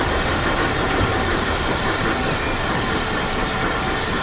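Two trains roll into a station together in Transport Fever 2 on UK-modded mainline stock, producing a loud, dense, continuous rumble of wheels and carriages with faint rhythmic clatter and no voices.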